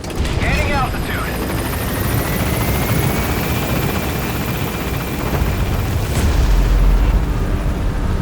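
A helicopter in Metal Gear Solid V: The Phantom Pain gains altitude, its dense rotor and turbine roar loud and continuous, rumbling heavier near the end.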